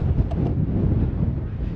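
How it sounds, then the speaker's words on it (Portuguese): Wind blows steadily at a scenic Grand Canyon overlook in Arizona, a constant loud rumbling buffet across the microphone with no break. "está um bocado de vento"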